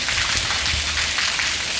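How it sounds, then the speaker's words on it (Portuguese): Steady rain falls and patters on a surface, a dense, continuous hiss close by with no talk. "Precisava só dar uma chuvinha aqui"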